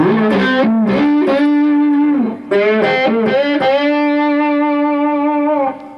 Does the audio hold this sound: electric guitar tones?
yes